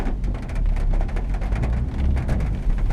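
Steady rain pours down during night driving in a car, a dense, continuous hiss and patter with low rumble underneath, loud and close throughout with no talking.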